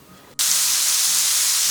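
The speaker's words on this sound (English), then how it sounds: "I just use now stick spray. This is canola oil." Canola oil non-stick cooking spray bursts from a can in one sudden, sustained, close and loud hiss after a brief quiet moment in a kitchen, with no voices.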